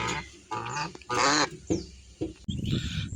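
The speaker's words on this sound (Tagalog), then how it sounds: "At ito na po yung 3 pirasong gansa." Three geese at a backyard farm honk and cackle in loud, close bursts, several overlapping calls breaking out one after another with short gaps between them.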